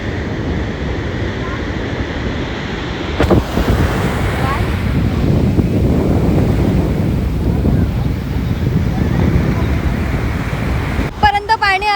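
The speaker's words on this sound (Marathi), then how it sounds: "Look at the tides." Ocean waves and tide wash in at a beach at Achra, a loud, sustained roar of surf mixed with heavy wind buffeting the microphone, briefly quieter before swelling up.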